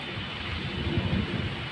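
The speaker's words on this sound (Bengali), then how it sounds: "অনেক ঝড় হলো, এখন বৃষ্টি পড়তেছে।" Rain keeps falling after a storm on a dark afternoon, with a low rumble of thunder rolling beneath the dense, even hiss of the downpour.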